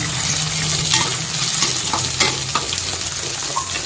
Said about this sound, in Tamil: சின்ன வெங்காயம் நல்லா ஃப்ரை ஆகட்டும்